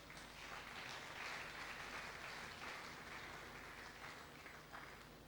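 An audience claps steadily together for about five seconds at a church gathering, a dense, even applause heard from within the room with no talking over it.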